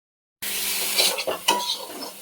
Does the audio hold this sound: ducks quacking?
no